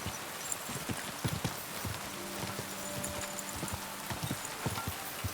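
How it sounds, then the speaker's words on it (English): Horse hooves clip-clop at a steady walking pace in Kingdom Come: Deliverance 2, close and fairly quiet, with a soft rain-like hiss behind them and a low tonal hum partway through. "Easy, good horse."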